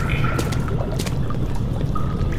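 Water moves and splashes in Amnesia: The Dark Descent, a soft continuous wash with small sloshing bursts, fairly close, under a faint low murmur.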